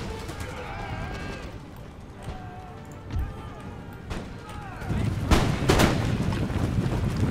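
Musket volleys and artillery fire in the PC strategy game Empire: Total War, set in an American Empire campaign as American Grenadiers fight Prussian Grenadier Guards; steady battle noise builds into heavier bursts of firing near the end, with voice commentary over the top.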